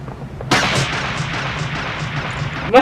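Gunfire from the war film Full Metal Jacket: one loud, close shot booms and rolls off into a long, reverberant tail, and a second sharp report breaks in right at the end.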